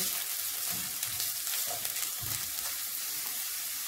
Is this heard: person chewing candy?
no